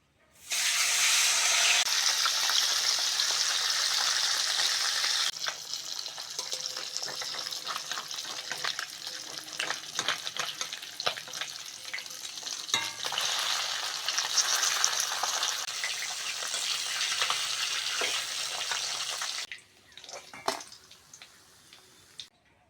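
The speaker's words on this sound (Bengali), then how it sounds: "মাছগুলো এরমভাবে ভেজে নেব" Pieces of parshe fish frying in oil sizzle loudly and steadily, with crackling and spatula scrapes as they are turned, easing to a quieter fry before fading near the end.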